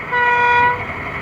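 A short high-pitched horn from the sound decoder of an Accurascale Class 31 OO gauge model diesel locomotive sounds as one steady tonal blast, loud and close, fading slightly at the end.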